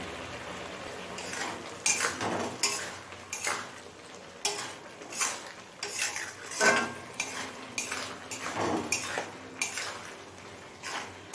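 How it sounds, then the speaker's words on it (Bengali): Metal utensils clatter and scrape against a cooking pot as the lid comes off and vegetables are stirred for an egg and vegetable dish, with quick irregular knocks close by. "ঢাকা খুলে সবজিটা একটু নেড়ে নিলাম"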